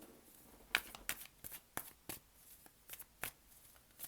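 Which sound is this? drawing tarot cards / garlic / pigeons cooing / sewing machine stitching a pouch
drawing tarot cards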